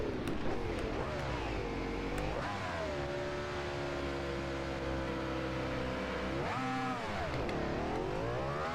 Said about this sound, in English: Desmo Sedici RR on Sierra Nevada's full circuit